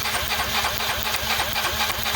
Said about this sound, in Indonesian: Inilah yang menyebabkan sehingga motor ini ngempos, kemudian berebet dan tidak bertenaga.